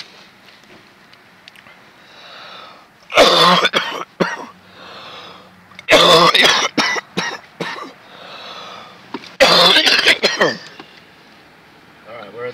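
Someone coughs in three loud, harsh fits spaced a few seconds apart, each a cluster of rough bursts, with quieter breathing and low sounds in between.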